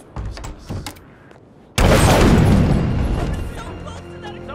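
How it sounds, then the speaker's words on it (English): A sudden loud explosion in the HITMAN video game (Escalation Contracts, The Scarlatti Covenant level) bursts in after faint ambient thumps, followed by a long rumbling tail of debris and echo that slowly fades. "Someone's setting off explosions!"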